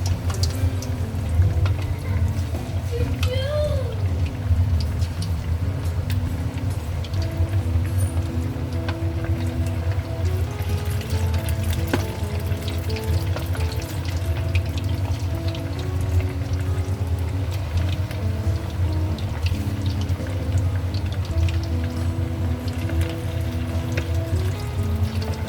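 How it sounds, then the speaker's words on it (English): Prawn paste chicken pieces deep frying in a pot of hot oil over high heat give a steady, continuous sizzle and bubbling hiss that holds close and loud throughout, with no talking. "So because I'm not doing shallow frying, I'm doing deep frying."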